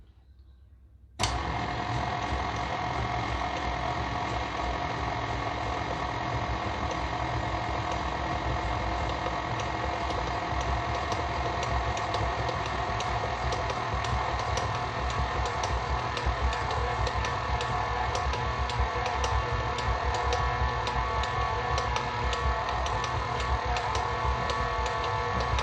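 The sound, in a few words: electric mixer mixing kringla batter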